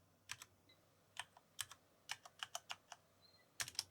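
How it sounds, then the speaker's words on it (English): A password tapped out on a computer keyboard while setting up a Windows 10 account: quiet, close keystrokes in short irregular bursts, with no voices. "Type in that secret password."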